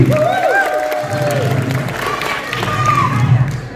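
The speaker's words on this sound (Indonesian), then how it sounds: "terima kasih tepuk tangan buat Martin Dewi dan Merah Putih" An audience at a gala film premiere applauds and cheers, a dense burst of clapping with whoops and crowd voices, loud and close, with some talking mixed in.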